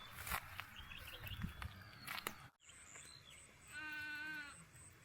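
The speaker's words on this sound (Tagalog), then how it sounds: "Yung kambing naiyak." A goat on a rural Philippine farm bleats once, clear and fairly close, with a wavering cry after a stretch of birdsong and faint background noise; no speech is heard over it.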